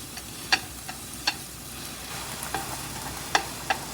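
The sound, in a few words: ramen noodles pan frying in vegetable oil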